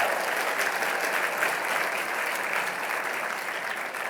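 An audience at an engineering alumni awards event breaks into steady, even applause, a dense wash of clapping from many hands that holds at a moderate level throughout.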